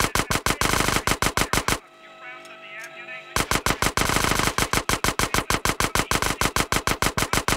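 Rapid bursts of SMG fire from GTA San Andreas, loud and close, rattling in fast repeated volleys with a brief pause mid-stream before shooting resumes.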